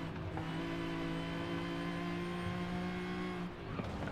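A track-built Nissan 370Z Nismo with a supercharger in Forza Horizon 5 drones with a steady, humming engine note held at near-constant revs, easing off briefly near the end.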